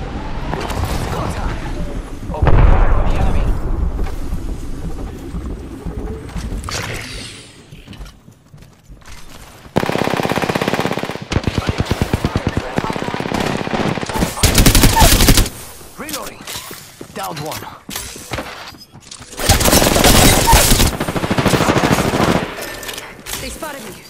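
Bursts of automatic gunfire in a team-based video game shooter, rapid fusillades firing in several loud clusters separated by quieter gaps, with a voice talking in between.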